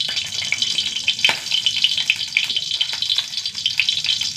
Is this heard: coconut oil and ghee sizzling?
yes